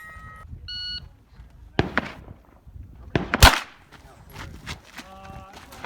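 A pistol caliber carbine at a 3-gun match fires a few sharp cracking shots in quick pairs, fairly close and loud, between short electronic beeps at the start and end.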